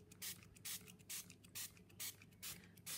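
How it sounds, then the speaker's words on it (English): Spray bottle spritzing water onto a watercolor card, seven quick, even hissing bursts in steady rhythm, close and fairly quiet with no talk. "I also need to spritz the watercolor card."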